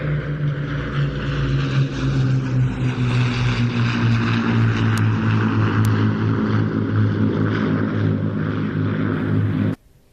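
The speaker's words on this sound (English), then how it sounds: "Royal Air Force, Battle Britain Memorial Flight, Lancaster" Avro Lancaster PA474 bomber of the Battle of Britain Memorial Flight, its piston propeller engines droning loud and steady overhead at an airshow at Old Buckenham, with no talk over it and a sudden cut at the end.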